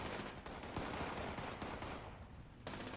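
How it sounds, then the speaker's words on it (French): Plasma grenades and weapons fire in the Fallout 76 video game, a dense, loud, continuous barrage of overlapping blasts and bursts that ends in a sudden drop near the close. "Grenade à plasma."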